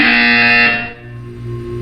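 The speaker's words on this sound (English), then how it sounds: "You will hear a buzzer. When you hear the buzzer, look up at the ceiling." Harsh electronic buzzer from the video game Portal 2, a loud distorted tone held for under a second before cutting off into a low lingering hum.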